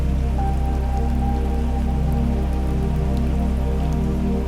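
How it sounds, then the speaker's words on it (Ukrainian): Steady rain falls as a meditation backdrop, a dense patter of drops that stays even and continuous, under a low droning hum, with no voices. "Дощ стає інтенсивнішим але він приносить тобі виключно приємні відчуття очищення."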